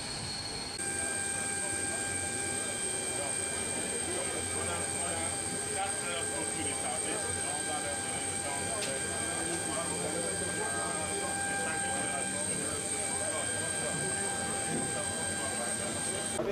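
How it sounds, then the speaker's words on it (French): A Russian-built Antonov cargo plane with a 100-tonne capacity on the tarmac at Garoua international airport in Cameroon gives a continuous high-pitched turbine whine and rumbling engine drone, steady and moderately distant, with a voice talking over it. "Antonov, un avion cargo de fabrication russe d'une capacité de 100 tonnes foule le tarmac de l'aéroport."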